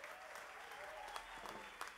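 Audience at a live guitarrada concert claps, a brief, steady round of applause, somewhat distant and fairly quiet, with no talking over it.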